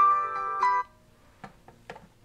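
A store telephone rings with a bright electronic tone for under a second, then cuts off, leaving faint handling noises.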